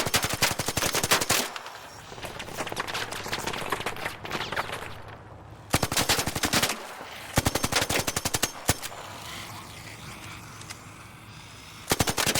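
Automatic gunfire from the Anvil in the video game Arc Raiders, loud rapid bursts of shots separated by short pauses, with sharp isolated cracks between the volleys.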